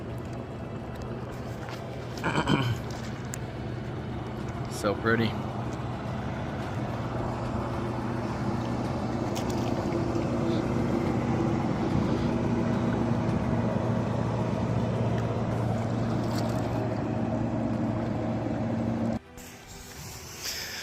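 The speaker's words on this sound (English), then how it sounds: "Now we've got this boat coming up." A motorboat engine drones steadily as it passes on the Colorado River below Glen Canyon Dam, holding a low hum before cutting off near the end; a voice speaks briefly.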